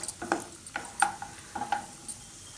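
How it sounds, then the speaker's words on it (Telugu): Ingredients for chakkara pongali, a South Indian sweet, being fried and stirred in a pan, with light scraping and clinking strikes spaced irregularly, close and fairly quiet. "కొంచెం ఫ్రై చేసుకోవాలి."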